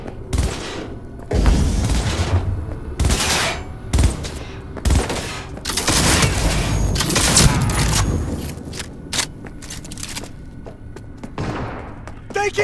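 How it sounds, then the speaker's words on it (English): Rapid bursts of automatic gunfire and thudding impacts fill a firefight in the video game Cyberpunk 2077 on PS4, loud and dense with brief lulls, while voices shout over the shooting. "Shoot until they're down!"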